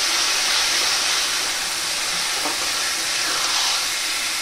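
Ingredients for an aam kochu pata recipe hit hot tempering oil, raising a loud, steady, bright sizzle that holds evenly throughout.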